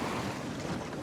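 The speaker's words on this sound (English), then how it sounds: "It is very windy" Steady wind noise at a spring bass-fishing lake, a broad continuous rush with no talk, buffeting the microphone evenly over a short stretch.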